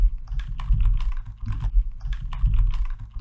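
JavaScript code is typed on a computer keyboard in a quick, uneven run of close, crisp key clicks with brief pauses. There is no talk.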